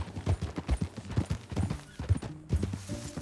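Horse hooves clip-clopping in a western video game, a close, steady rhythmic trot of hollow thuds continuing alone with no talk.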